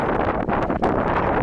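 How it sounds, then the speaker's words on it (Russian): Strong, near hurricane-force wind on a hot July night in Alanya roars steadily and loudly across the microphone, with one brief dip in the gusting. "Просто реально чуть ли не ураганный ветер."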